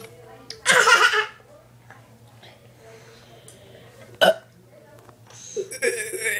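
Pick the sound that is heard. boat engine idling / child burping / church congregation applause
child burping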